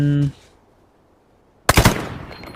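A single loud AR-57 rifle shot in Arena Breakout cracks out sharply near the end, after a brief tone and a quiet pause, with a short decaying echo.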